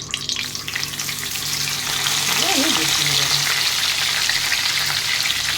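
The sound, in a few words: hilsa fish paturi in pumpkin leaf frying in oil in kadai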